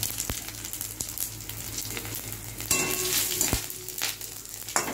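Cumin seeds spluttering in hot oil with fried green chillies give a continuous close sizzle, dotted with sharp pops and crackles and occasional stirring clicks.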